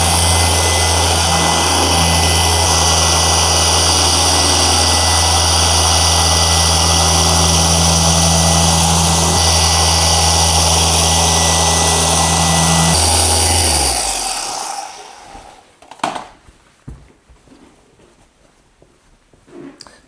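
A dual action polisher whirs steadily on a car hood with a ceramic coating, a loud constant machine drone that stops abruptly near the end, leaving a few faint knocks and handling noises.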